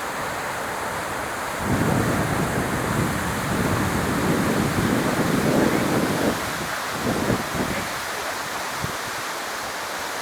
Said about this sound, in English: Right here's Rapids, Whitewater.